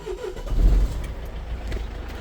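Mercedes Sprinter 906 with a 2.3 diesel engine suspected of a knocking fault starting up in one quick crank, then settling into a low, rough idle rumble.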